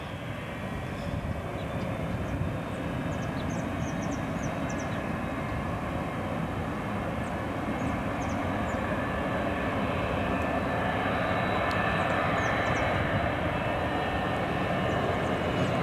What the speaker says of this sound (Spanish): Es un despegue como campo corto, mira. Le mete full potencia, frenos.